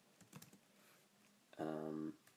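A computer keyboard typed in a short burst of keystrokes near the end, with a few scattered taps earlier, close and fairly quiet with no talking.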